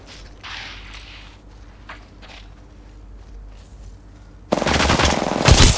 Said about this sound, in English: Opening fire on contact.